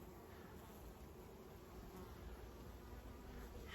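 A faint, steady buzzing hum of many honey bees at an open hive, continuous and even throughout, with no voices.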